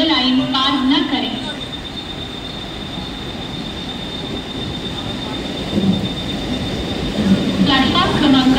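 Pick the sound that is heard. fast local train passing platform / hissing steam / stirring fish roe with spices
fast local train passing platform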